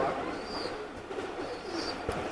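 Teddy pigeons, a male and female pair, give soft, low cooing over a noisy background, faint and brief.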